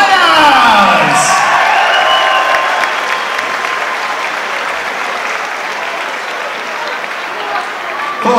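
Crowd at a boxing match bursting into loud applause and cheering for the fighters, a brief whoop rising early, the clapping then settling into a sustained, slowly fading roar.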